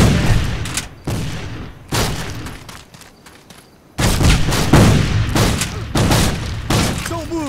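Dense Civil War battle gunfire in a video game: repeated loud musket shots and booming volleys, close and sharp, with a brief quieter lull before the firing resumes heavily.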